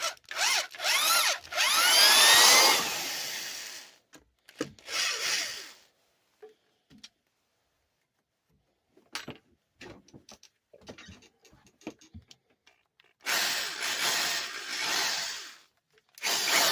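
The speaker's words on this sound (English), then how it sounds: "Another old Black & Decker drill up and running." An old Black & Decker electric drill whirs in loud bursts with rising and falling pitch, separated by quiet stretches with scattered clicks and handling noises.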